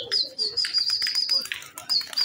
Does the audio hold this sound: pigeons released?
yes